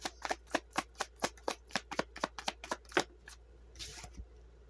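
Tarot cards shuffled by hand in a quiet room, with a rapid, even run of crisp card slaps for about three seconds, then a softer riffle and a few final taps.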